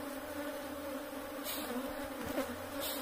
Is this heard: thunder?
no